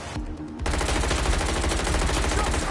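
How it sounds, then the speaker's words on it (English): Sustained rapid automatic gunfire in the video game Watch Dogs: Legion, loud and continuous after a brief quieter start. "Shots fired!"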